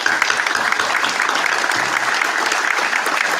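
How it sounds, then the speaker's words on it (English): Steady audience applause at a township council meeting honoring nine local sports honorees, a dense wash of many hands clapping evenly at moderate volume for a few seconds, with no talking over it. "let's give a round of applause to all 9 honorees"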